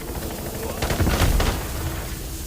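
Gunfire in Call of Duty Warzone, a short burst of close shots that swells in the middle over constant game noise.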